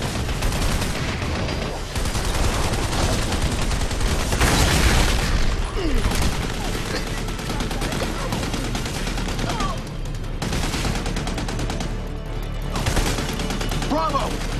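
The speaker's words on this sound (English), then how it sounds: "That machine gun's pinning us down out here!" Machine gun fire in the video game Army of Two: The Devil's Cartel, loud sustained bursts of automatic shooting with booms, heavy and continuous across the whole stretch, with some game voices mixed in.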